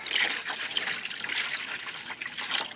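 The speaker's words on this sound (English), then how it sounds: "Let's pour just a little bit across the top so they know it's up here." Sugar syrup trickles steadily onto the top feeder of a honey bee hive in winter, a soft continuous pouring and dribbling of liquid heard close up, with no talking.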